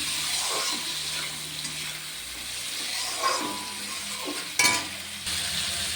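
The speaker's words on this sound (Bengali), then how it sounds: "মটরশুঁটি, কাঁচা লঙ্কা, নুন, হলুদ সব দিয়ে দিয়েছি, ভালো করে কষিয়ে নেব।" Green peas, green chili, salt and turmeric with fried eggplant and cauliflower are sautéed in a pan, a low steady sizzle broken by occasional stirring scrapes and a sharp knock of the utensil.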